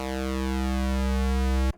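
A Cherry Audio Mercury-6 analog synthesizer holds one steady, loud, harmonically rich tone for under two seconds before it cuts off abruptly.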